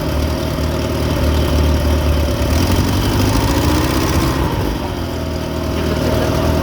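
An engine in a conventional charging system setup runs loudly close by and climbs to higher RPM, with its pitch rising and then easing over about seven seconds. No one speaks.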